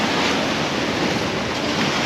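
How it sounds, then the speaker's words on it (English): Ocean waves breaking on a Hawaii shore, a steady broadband roar of surf with wind noise buffeting the microphone throughout, loud and continuous with no talking. "look at the waves over here"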